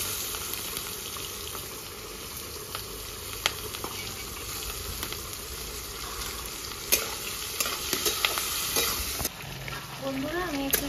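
Chopped onion frying in hot oil with whole cumin and dried chilies, a steady loud sizzle with occasional stirring knocks and scrapes throughout.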